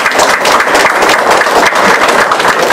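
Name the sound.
audience applause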